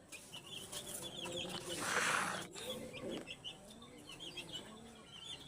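A Claveria gamefowl rooster clucks and calls in short rising and falling bursts, close by, with someone talking over part of it and a brief louder rustle in the middle.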